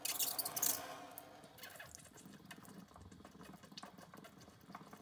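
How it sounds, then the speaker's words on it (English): Water runs from a Breville espresso machine under repair: a loud gushing burst at first, then a steadier hissing, gurgling flow with a faint mechanical hum, close by and without talk. "Water is flowing perfectly from that side."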